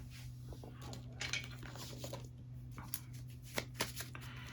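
Tarot cards shuffled by hand: quiet riffling and flicking bursts of cards over a steady low hum, close and soft, with no talk.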